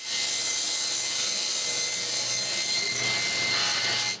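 A table saw cuts the angled end off a wooden door frame part, a steady loud blade whine with a low motor hum running through the cut and winding down briefly at the end.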